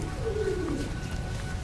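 A pigeon gives a soft, low coo while being handled, close by and quiet over faint background hum.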